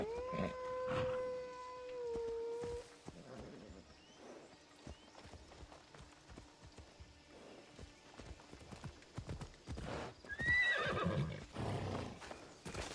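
A horse in Assassin's Creed Odyssey gives a long, clear whinny up front, followed by stretches of hoof clops and rustling, then a second shrill neigh near the end, with no voices over it.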